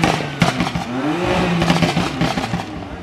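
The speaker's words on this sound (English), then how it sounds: "I think this turned into like a revving contest." BMW M car engines, including an M4 GTS, rev hard and loud, with sharp crackling exhaust pops bursting through the roar.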